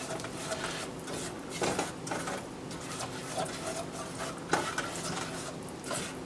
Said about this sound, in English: It's going to make a white roux.